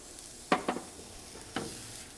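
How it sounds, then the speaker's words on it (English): Diced onion and toasting rice sizzle in a pan as a spoon stirs, a quiet steady hiss broken by a few scraping knocks of the utensil, close and without talk. "I'm gonna throw in some of this diced onion."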